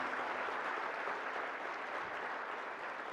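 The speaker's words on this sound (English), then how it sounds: "a big round of applause" Faint audience applause at a public schools excellence gathering, a steady distant patter of clapping with no voices over it.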